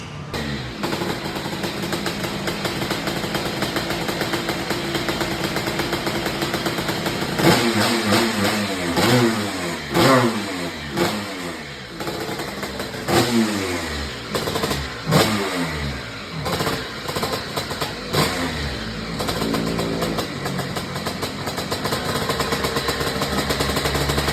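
Vespa Carbon M200 scooter engine on a dyno, fitted with a small magneto, idling steadily before a series of sharp rising and falling revs. Loud and close, with no voices.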